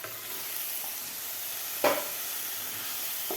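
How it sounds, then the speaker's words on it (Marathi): Egg masala curry cooks in a pan after water is added, a continuous soft sizzle and hiss with a sharp crackle burst midway and a faint click at the end, no talking. "पाणी घातल्यानंतर आपल्याला व्यवस्थित हा मसाला शिजवून घ्यायचा आहे"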